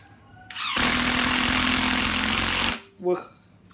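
A DeWalt 12V impact driver runs on its low setting, a loud, dense rattling hammer that lasts about two seconds and then stops abruptly. A brief voice comes just after.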